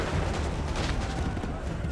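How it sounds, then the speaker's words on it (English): Musket volley fire in Assassin's Creed 3, a dense, continuous rumble of overlapping gunshots and booming reports sustained loudly throughout, with shouted commands mixed in. "Open fire! Hold fire! Fire now!"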